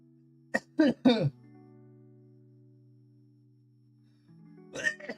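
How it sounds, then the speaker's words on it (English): Three quick, harsh coughs close to the mic, then a low hum, followed by another short cough burst. "If I could stop coughing, that'd be nice."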